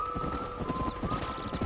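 Horse hooves clip-clop at a steady trot in the Red Dead Redemption video game, a close, even rhythm of hoof beats over a faint background hum.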